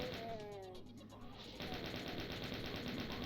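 Chaingunner enemy firing in the video game Doom, a rapid continuous burst of machine-gun fire mixed with game noise, dense and steady through the whole stretch.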